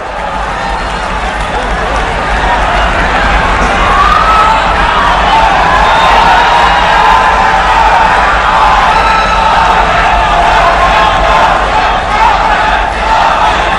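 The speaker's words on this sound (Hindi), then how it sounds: "amidst your huge round of claps and applause" A large outdoor crowd at a public rally for the Prime Minister in Balangir, Odisha, claps and cheers in a loud, continuous roar with shouting voices mixed in, sustained without a break throughout.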